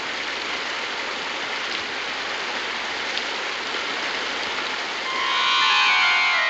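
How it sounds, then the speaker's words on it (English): Heavy rain pours down in a constant, even wash of drops, loud and close, with a tonal music swell creeping in at the end. "Josh, you know better to let those horses stand out there in the rain without any shelter."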